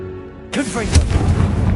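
Confringo fire spell blasting in Hogwarts Legacy, a sudden loud burst that kicks in abruptly and rumbles on with crackling debris, with a voice speaking over it.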